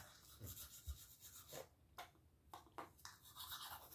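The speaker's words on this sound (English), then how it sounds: "We're gonna brush our teeth in the dark." A toothbrush with soft bristles scrubs teeth in a dark room, giving steady close scratchy strokes with short breaks between bursts and no talking.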